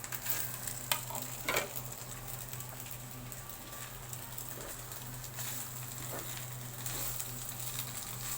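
Cooked meat filling for samosa pastries sizzles and crackles steadily in a frying pan, a continuous loud frying hiss with a few sharper stirring scrapes near the start, no voices.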